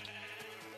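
A single short sheep bleat from Minecraft, a brief wavering cry heard clearly on its own with no talking.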